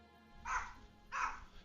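A dog named Peanut barks twice, two short, clear woofs a little over half a second apart, heard close by in a quiet room.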